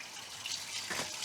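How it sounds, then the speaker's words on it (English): Water drains and gushes out of a small skiff on a trailer in Alaska, a soft continuous trickling and splashing, faint and steady. "Get this water drained out."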